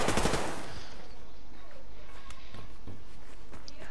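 A short burst of rapid machine gun fire in the Survarium shooter game opens loud and close, then fades into quieter game ambience with a few scattered shots.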